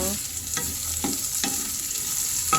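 Sweet potato sizzles steadily in a hot pan while a utensil stirs it in a few distinct scrapes, a constant frying hiss underneath with no talking.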